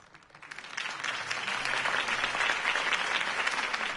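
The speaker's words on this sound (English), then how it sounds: "could have heard that applause" Crowd applause in Batman: The Telltale Series, a political rally scene, swelling quickly from a few claps into sustained, dense clapping that holds steady and loud with no voices over it.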